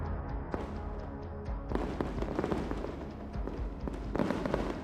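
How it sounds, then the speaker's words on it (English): A BTR-4E armored vehicle fires its 30mm cannon in sweeping bursts, a dense run of loud, sharp reports and booms that stack over a rumbling background, with no talking. "A BTR-4E moved in and engaged with its 30mm cannon"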